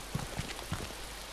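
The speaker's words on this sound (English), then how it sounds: "I can hear rain." Rain falls in the survival video game DayZ as a steady soft hiss, with a few faint droplet taps over a low background rumble.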